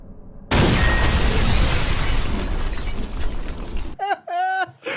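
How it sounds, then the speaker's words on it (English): A loud film explosion bursts in suddenly with a shattering, crackling roar that decays over a few seconds, then gives way to a person speaking. "and then an explosion happens"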